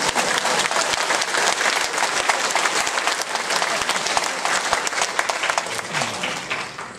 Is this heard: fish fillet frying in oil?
no